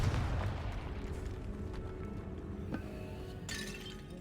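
A Confringo blasting spell fires in Hogwarts Legacy inside a tomb, a dense low rumbling burst with a sharp crack near the end and a bright shimmering tail, no talking.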